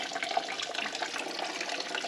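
Liquid draining from a truck during a build teardown, a steady trickling, splashing flow heard close and fairly quiet, continuous throughout with no talking.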